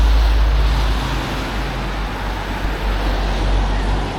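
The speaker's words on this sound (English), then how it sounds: "Excuse the traffic noise" Steady roar of road traffic on the Isle of Purbeck beside a parked Jeep, a continuous low rumble with no breaks, fairly loud and even throughout.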